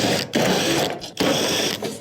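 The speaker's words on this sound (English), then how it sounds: "I must first remove this panel that has multiple 1/4-inch screws going around the perimeter." A powered screwdriver whirs steadily while backing out quarter-inch screws around the perimeter of a clothes dryer panel, close and loud, with brief breaks between screws.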